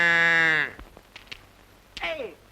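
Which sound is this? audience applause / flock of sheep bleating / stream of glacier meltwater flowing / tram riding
flock of sheep bleating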